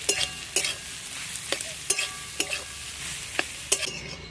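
Potatoes with cumin, chili and turmeric powder are stirred in a hot pan, with a steady sizzle and a series of sharp spoon scrapes at irregular intervals.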